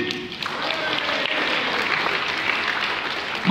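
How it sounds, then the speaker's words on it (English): An audience at a resort hotel's western show in Punta Cana applauds in a continuous, full wash of clapping, with a voice faintly audible underneath. "Applause for the Machine!"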